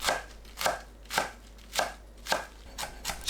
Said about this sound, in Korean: 길게 반으로 자르고 채 썰어주세요.